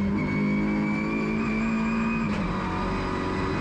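An Audi RS3 TCR race car engine holds a loud, steady high-pitched drone at the rev limiter in fourth gear through a long right-hand corner at Zolder circuit, heard continuously from onboard.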